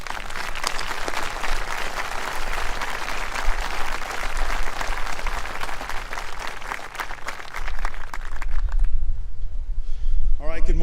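An audience at a Veterans Day parade event at the Army and Navy Academy gives a warm round of applause to welcome Colonel George Plies. The dense clapping is sustained and loud, then thins out and fades near the end.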